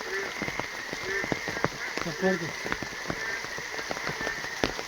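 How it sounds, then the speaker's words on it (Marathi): Rain patters on a surface while frogs croak in short, scattered calls, one burst briefly louder midway. "परत पाऊस लागलाय आणि बेडकांचा आवाज पण आहे बापरे"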